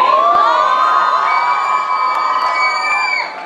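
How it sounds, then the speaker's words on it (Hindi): Young men in a live comedy show audience shouting and whooping together, a loud, sustained crowd roar with overlapping high-pitched yells that fade slightly near the end. "लड़के ही चिल्ला रहे हैं।"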